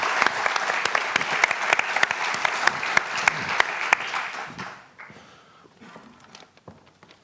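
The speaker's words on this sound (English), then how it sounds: "So a round of applause for Cathy and all our panellists." A conference audience gives a round of applause for a climate panel, a dense burst of clapping that runs loudly for about five seconds, then thins into scattered claps and fades into room murmur.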